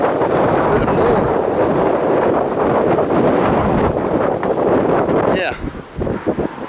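Strong gusting wind from a gust front in Coyote, New Mexico, roaring loudly into the microphone in continuous buffeting blasts, with a brief bird-like chirp near the end.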